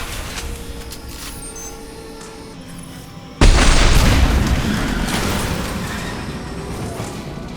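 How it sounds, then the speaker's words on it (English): A tank blowing up in the video game Mass Effect 2: a sudden heavy boom halfway through bursts out of a low rumbling ambience and rolls into a long, loud, slowly fading roar. "It'll take heavier weapons than that to blow those tanks."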